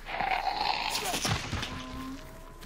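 Gunfire from the video game Hunt: Showdown, with scattered sharp cracks and bursts in the first half second to second and a half, followed by quieter game ambience and tonal whistles.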